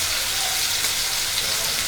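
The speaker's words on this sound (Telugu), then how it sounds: "మిరియాల పొడి వేసి అల్లం వెల్లిపాయ వేసి దంచి దాన్ని మ్యాగ్నేట్ చేసి ఫ్రై చేస్తున్నాను" Chicken marinated with pepper powder and pounded ginger and garlic fries in a pan, a loud, dense, continuous hiss of sizzling oil close up with no pauses.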